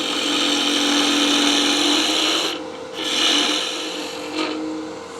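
A 1-inch skew chisel removes stock from salvaged wood spinning on a lathe, a loud, continuous rasping scrape that briefly dips once before resuming.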